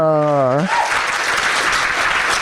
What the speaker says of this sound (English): Can we give Jan one more round of applause?